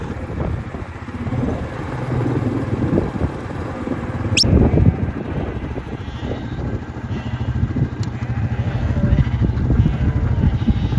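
A flock of sheep bleating loudly and continuously in a field during shearing season, many overlapping calls near and far over a constant outdoor rumble.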